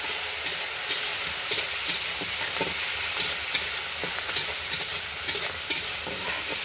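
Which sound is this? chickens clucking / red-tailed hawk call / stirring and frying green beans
stirring and frying green beans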